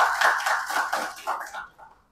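Audience at an award ceremony for successful entrepreneurs in Nashik claps to welcome a guest, a brief dense burst of applause that fades out within a couple of seconds.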